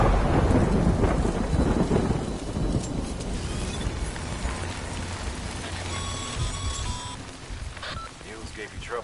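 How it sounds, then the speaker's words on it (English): Rain and rolling thunder in the video game Death Stranding, a loud low rumble and steady downpour filling the scene, with a voice talking over the storm and faint tonal game sounds toward the end. "Good thing it was raining."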